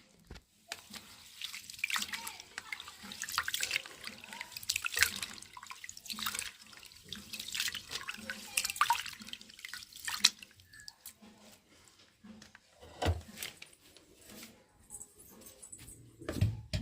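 Rice is washed under running water, with splashing, swishing and trickling in uneven bursts, and an occasional clink of a pot nearby.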